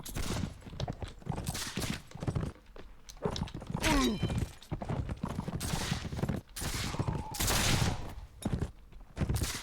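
Musket fire rings out in a Mount & Blade With Fire and Sword siege battle: dense, repeated shots and thuds over a noisy mix of hoofbeats and battle clamor, with a voice speaking at times.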